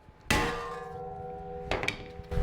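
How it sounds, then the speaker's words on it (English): A hammer strikes a stuck front brake rotor on a 2009-2015 Honda Pilot during a pad and rotor replacement, producing a few sharp metallic clangs that ring on, with a single hit followed by a quick pair of blows. "Just hit it with a hammer."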